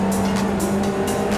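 A racing car in a video game with a steady high engine drone and tyre noise as the driver brakes, loud and close with no talk.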